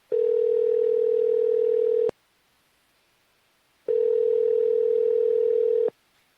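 A steady telephone dial tone on a phone line before a call, sounding alone in two long unbroken stretches of about two seconds each, separated by a short silence.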